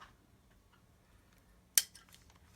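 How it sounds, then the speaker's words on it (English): Tamiya cutters snip a plastic part off the sprue for a Tamiya Land Rover Defender CC-01 kit, one crisp, close click in a quiet room, followed by a few faint small rattles. "Now this time I used the Tamiya cutters because this is a part I'm going to use."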